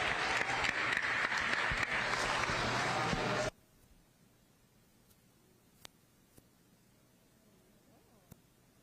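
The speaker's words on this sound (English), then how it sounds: "Let's give the kids a round of applause." An audience applauds the kids at the Berkeley County Youth Fair, a dense, loud wash of clapping that cuts off abruptly, leaving a quiet room with a few faint knocks.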